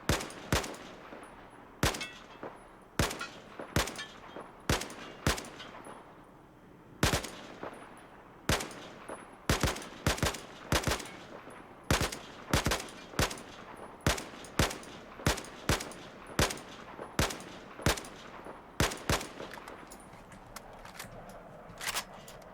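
Single-fire gunshots from a rifle on the Battlefield 4 test range, video game: about thirty sharp, loud reports at an uneven but steady pace, each with a short decaying tail, no talk over them.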